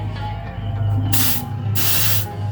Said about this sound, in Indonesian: Kita masukkan sedikit lalu kita semprot ya teman-teman